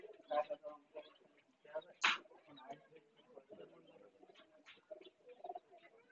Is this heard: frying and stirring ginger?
no